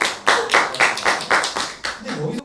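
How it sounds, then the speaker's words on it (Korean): Hands clap in a brisk, loud, close rhythm of about seven claps on a Korean education broadcast, with voices chattering and laughing underneath. "이 정도면 박수를 한번 쳐야 되지 않을까요?"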